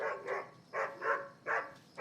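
A pet dog barks indoors at night in a family home, three or four moderately loud barks in a steady rhythm, with no voices over them.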